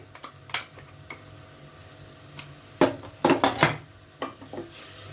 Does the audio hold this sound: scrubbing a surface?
no